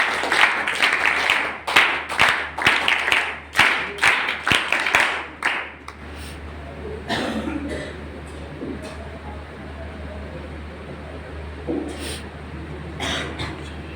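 An audience at a drug rehabilitation centre claps loudly in welcome, a burst of vigorous applause that stops after about six seconds, leaving quiet room noise with a few faint sounds.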